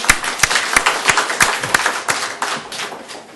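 A church congregation claps in a steady rhythm of sharp, roughly evenly spaced beats, loud and close, with no talking over it.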